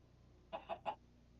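Three short, close clucks from Minecraft chickens, evenly spaced over a quiet background with no talking.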